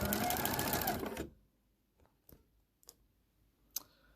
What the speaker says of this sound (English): I'm going to pinch to hold those together as I start to sew.